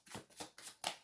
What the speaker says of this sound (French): j'ai échappé les cartes